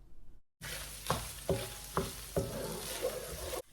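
Unsalted butter and garlic cloves sizzling loudly in a pan, a steady frying hiss broken by four or five clanks of stirring at an even pace, with no talk.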